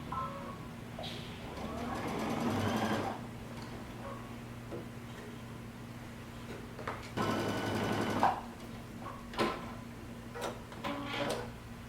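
A sewing machine stitches a coat sleeve onto the coat body with a 5/8-inch seam, in short bursts of close mechanical whirring broken by pauses, clicks and handling noises.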